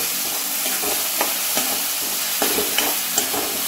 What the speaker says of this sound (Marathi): ते ह्याच्यावर ओतूया आणि हे पण छान असं आपण परतून घेऊया